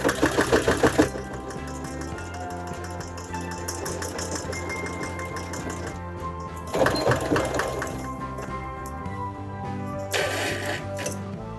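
A sewing machine stitching a fabric face mask, its motor running in steady bursts with a rapid mechanical needle clatter, close and fairly loud, pausing briefly between runs.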